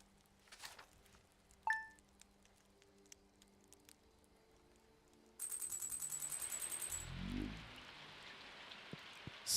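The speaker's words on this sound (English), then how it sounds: "Still raining." Steady rain falls outside, a soft broadband patter that starts partway through and continues to the end, with scattered clicks and a brief low rumble beneath it.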